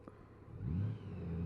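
A Honda Gold Wing motorcycle engine revs up, its low rumble rising and swelling in pitch over about a second and then holding, heard close and steady.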